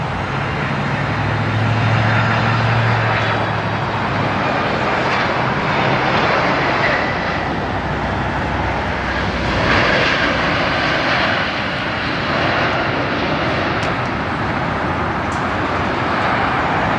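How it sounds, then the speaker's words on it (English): A JetBlue jet airliner taxis for takeoff at LAX, its engines giving a loud, steady roar and whine that stays constant and close throughout, with no voices over it. "JetBlue taxiing out for takeoff"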